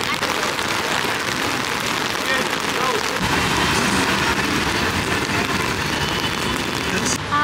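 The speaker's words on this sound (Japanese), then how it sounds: "めっちゃ雨降ってきた。" Heavy rain pours onto a city street in a pedestrian zone, a dense continuous hiss of drops on pavement that thickens partway through and holds steady.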